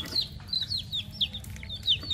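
Chickens on a small backyard farm clucking with short, high, repeated calls, moderately near over a low background murmur, no talk.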